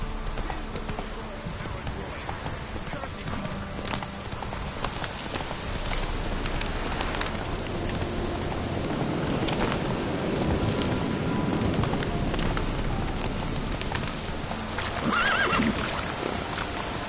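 A horse gallops with rapid hoof clip-clop and neighs loudly amid steady rainfall in The Witcher video game, the hiss of rain under the hoofbeats and a whinny rising near the end.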